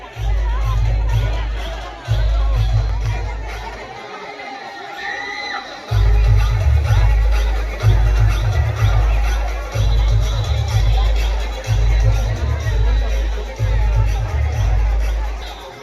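A large, dense crowd murmurs and shouts at a Navratri bhandara fair at the Siddhi Mata temple in Bemetara, loud and close, with a steady low hum that cuts out in a rhythmic stop-start pattern beneath the babble.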